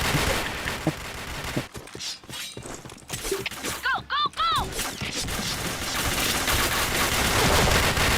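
Gunfire rattles through a shooting video game in bursts, sharp cracks rising over a busy, dense mix, with brief pauses and a few ringing metallic tones around the middle.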